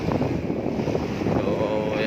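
Steady wind buffets the microphone with a continuous rushing roar, loud and close, with no break across the clip.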